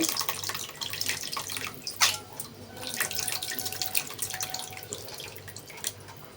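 Tamarind juice is strained by hand into a pot of Isuka Dondulu fish curry, pouring and splashing continuously as a steady watery trickle that rises briefly, with no talking.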